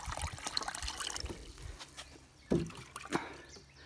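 Water poured from a container into a plastic bottle used as a makeshift shower at a beach campsite on Phi Phi Island, heard as close, uneven splashing and gurgling bursts over a constant noisy outdoor background.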